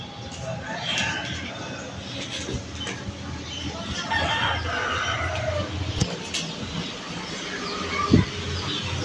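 Chickens cluck and a rooster calls on a house rooftop, the clucks scattered and moderately close, with a woman and other people talking over them.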